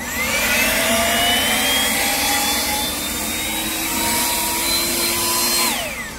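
An ES LB454 54V cordless leaf blower runs on its second power mode, clearing leaves caught in grass with a loud rushing airflow and a rising jet-like whine that climbs slowly in pitch, then eases off near the end.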